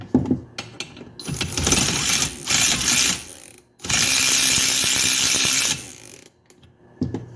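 A 1948 Johnson Iron Horse AR-501 outboard engine being cranked over by hand, giving two long bursts of loud mechanical clattering and ratcheting, with a short pause between them and a few lighter clicks at the start and end.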